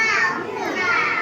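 A group of schoolchildren voice a cat's meow together in a classroom, their high, overlapping chanting voices imitating the animal in a lively, sustained chorus.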